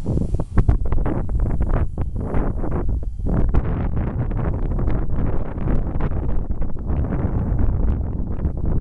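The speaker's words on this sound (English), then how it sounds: "So the wind causes a little more problem for me." Wind blowing hard outdoors against the microphone while a V120D05CS-PRO RC helicopter flies 3D, with continuous loud buffeting and gusty rumble throughout and no talking.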